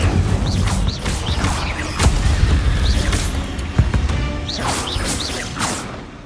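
The Incendio fire spell bursts repeatedly in the video game Hogwarts Legacy, loud whooshing blasts and crackling impacts hitting every second or so over dense combat effects.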